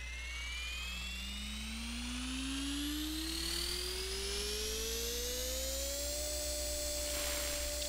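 Simulated RC helicopter in the RealFlight 7 flight simulator, its rotor and motor whine rising steadily in pitch as the throttle is raised, a continuous loud tone with no talking.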